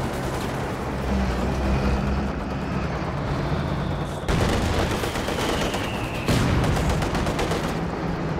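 Land Mattress rocket artillery fires in Company of Heroes 2, a dense roaring barrage of launches and blasts that swells in distinct waves, loud and continuous with no voices.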